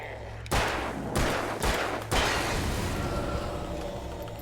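Four loud gunshots fired in the video game Alan Wake, evenly spaced about half a second apart, each a sharp broadband crack with a short ringing tail over a low droning background.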